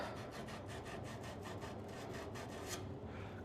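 Sand screen rubbed back and forth over copper pipe during a water meter plumbing job, a steady rhythmic rasping scrape of about a dozen strokes, close and continuous with no talking.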